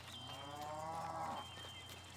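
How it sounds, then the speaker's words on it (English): Cattle moo in a farm video game, one long drawn-out low call rising and falling, fairly distant and soft over a steady background hum, with no talking. "I hear cows in the distance."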